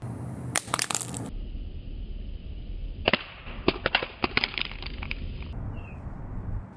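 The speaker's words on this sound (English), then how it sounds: "On the second drop, I'll drop it again on the screen," An Honor X9a (Magic 5 Lite 5G) phone dropped screen-first from head height onto a hard surface, giving a sharp crack of impact followed by a quick series of smaller clattering bounces and rattles.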